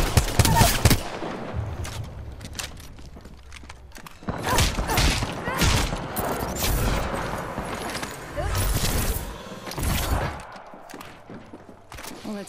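Rapid bursts of gunfire from the video game Apex Legends, loud and close, with heavy salvos early on, around four to six seconds and near nine to ten seconds, separated by quieter stretches.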